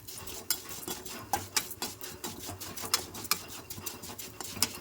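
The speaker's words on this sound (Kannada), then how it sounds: "ಒಂದು ಬಾಣಲಿ ಇಟ್ಬಿಟ್ಟು ಎಣ್ಣೆ ಹಾಕ್ಕೊಂಡು ಒಂಚೂರು ಶಾವಿಗೆನ ಹುರ್ಕೋಬೇಕು" Vermicelli roasting in oil in a pan, with repeated light scraping and stirring strokes and a soft sizzle, close but quiet, no speech.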